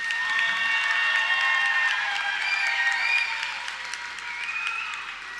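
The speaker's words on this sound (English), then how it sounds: "let's give these amazing students another round of applause" Graduation ceremony audience applauds steadily, a dense sustained wash of many hands clapping that eases slightly toward the end.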